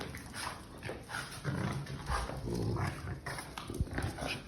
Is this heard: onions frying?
no